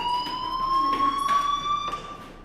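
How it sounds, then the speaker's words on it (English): Fire alarm from the video game Life is Strange ringing steadily at a high pitch, a continuous electronic tone with a faint siren-like wavering, clear and moderately loud throughout with no talking. "do you hear that fire alarm?"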